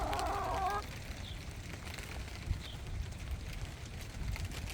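Pet hens out in the rain give a brief cluck at the start, then fall quiet under a steady, soft wash of rainfall that stays faint and distant.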